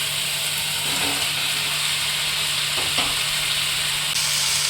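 Ridge gourd fries in hot oil with a constant bright sizzle and a few soft scrapes from stirring, steady and close throughout.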